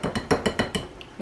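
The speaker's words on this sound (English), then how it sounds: "Alright, let's mix. I like to start off with the whisk" A whisk beats muffin batter for maple apple cinnamon muffins in a bowl, giving six or seven quick, evenly spaced metallic clinks and scrapes against the bowl, close and moderately loud, with no talking.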